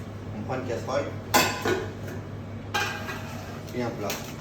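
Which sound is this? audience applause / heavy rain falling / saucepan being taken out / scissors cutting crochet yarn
saucepan being taken out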